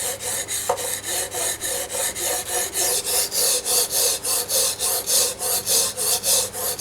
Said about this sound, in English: I'll grind away at side B until that burr forms and flips over